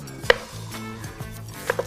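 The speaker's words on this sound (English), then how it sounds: "Chop it up and boil it to then mash it." A knife chops through fibrous taro root on a cutting board, giving three sharp knocks, one early and a close pair near the end, over a low steady background hum.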